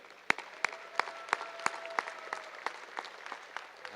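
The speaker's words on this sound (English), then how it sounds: "let's give all these young people a big round of applause." Sparse, steady clapping for young exhibitors at a junior dairy cow show, with a few sharp individual claps standing out over a soft, distant crowd patter throughout.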